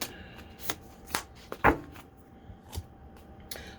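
Tarot cards being shuffled by hand at close range, soft riffles and sharp card snaps arriving in irregular bursts over a quiet room.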